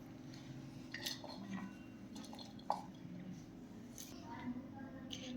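Chopped fenugreek leaves are scraped into a bowl with soft clinks and scrapes of utensil against dish. The sounds are quiet and close, with a faint voice in the background.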